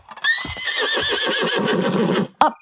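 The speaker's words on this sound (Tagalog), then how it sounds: "Oh, may kabayo talaga eh." A horse gives one long, loud, quavering neigh with a shaky trill that fades out, then a sharp thump near the end, with no talk over it.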